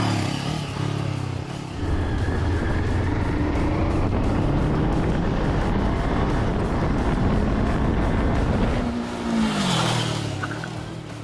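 A 500cc twin-cylinder naked motorcycle laps a kart circuit, its engine note droning loud and steady as it passes, then rising in pitch and fading toward the end.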